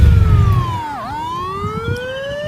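Ambulance siren wailing close by, a loud tone sweeping down and back up in pitch with the low rumble of a vehicle underneath, no voices.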